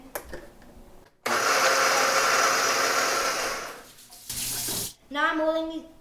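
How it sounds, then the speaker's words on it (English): Kitchen blender whirring through a fig, walnut, coconut and cinnamon mix, a loud steady grind that runs for a few seconds, stops briefly and restarts in a shorter burst, with a voice heard before and after. "put it in the blender"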